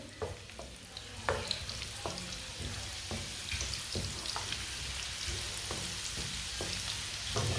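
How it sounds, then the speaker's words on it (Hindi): Finely chopped onion sizzles in hot oil in a pan, a soft, steady frying hiss with scattered crackles and occasional stirring clicks, heard alone without talk. "थोड़ा सा बारीक कटा हुआ प्याज। प्याज को 1 मिनट के लिए पका लेते हैं।"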